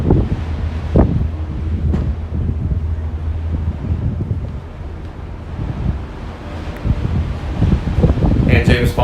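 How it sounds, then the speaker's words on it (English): Gusty wind buffeting an outdoor microphone at Disney World, loud rumbling bursts that rise and fall over several seconds, with a voice talking faintly in places. "Can you hear how breezy or wind gusty it is?"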